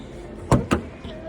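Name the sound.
loud car doors of a Nissan Almera closing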